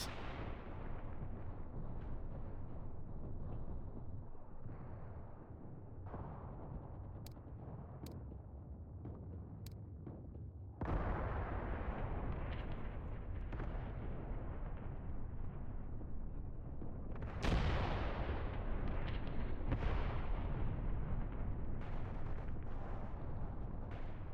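Platoon mortars fire in the Mius Front war game: a constant heavy battlefield rumble with repeated booming impacts and blasts, growing louder partway through.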